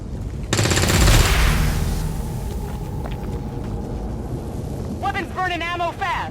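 Weapons fire in XCOM: War of the Chosen, with a loud burst of automatic shots up front and then a rumbling, crackling tail of combat, ending in short chirpy electronic blips.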